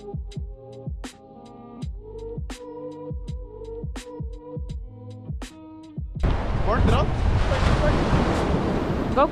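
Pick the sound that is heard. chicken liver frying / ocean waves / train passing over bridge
ocean waves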